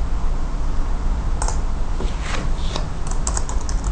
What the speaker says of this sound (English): now you can type either in English or in Russian and switch with Ctrl Shift on the keyboard